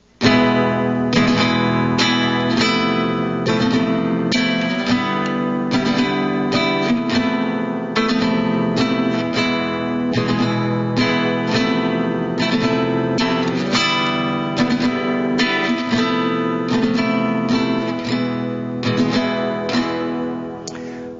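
A classical guitar plays the chord section of Malagueña, strummed and fingered chords ringing out loud and close in a continuous rhythmic passage, no talking.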